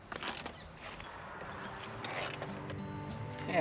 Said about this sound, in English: 3 nuts here to undo. It's real quick with the ratchet spanner.